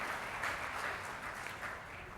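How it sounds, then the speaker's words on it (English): An audience at a university athletics Hall of Fame induction ceremony claps steadily in a soft, distant wash of applause that holds for a couple of seconds. "yes, you can give a little applause"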